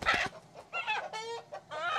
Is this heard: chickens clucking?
yes